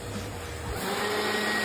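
Household vacuum cleaner running indoors, a steady whining drone with a tonal hum that holds at moderate level for the whole stretch, with a slight shift in pitch partway through.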